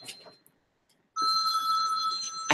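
A telephone rings with a sustained electronic bell tone, starting abruptly after a near-silent pause and continuing loud and steady to the end, with faint breathy sounds at the start.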